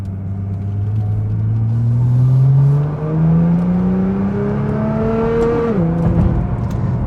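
A modified Nissan GT-R fitted with an Armytrix exhaust revs up, the engine note climbing steadily in pitch into a raspy rumble, then briefly dipping and rising again, loud and close with no talking.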